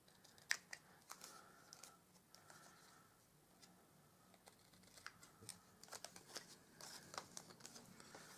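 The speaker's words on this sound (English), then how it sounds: "I'm just going to use my normal scissors," Ordinary scissors trimming the taped edge of a handmade baby carriage gift bag, with a string of quiet, close snips and crinkles of paper scattered through the stretch, no voices over them.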